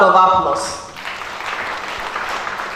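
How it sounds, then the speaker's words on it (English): A brief voice opens, then an audience at an African herbal-medicine festival event gives a round of applause that stays moderate and fairly even to the end, with speech fading under it. "I think he deserves a better round of applause."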